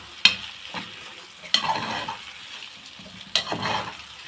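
Kishk with eggs stirred in a pan, three sharp spoon scrapes against the metal spaced apart, each trailed by a soft sizzle over a quiet background, no voices.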